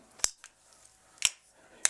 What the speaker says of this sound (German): klick einmal hoch, leg das Bein einfach um.